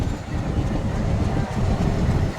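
A train on the Veraval–Amreli metre-gauge line rumbles past close by, a loud continuous roar of wheels and cars that stays steady throughout.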